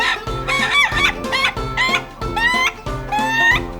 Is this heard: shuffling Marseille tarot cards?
no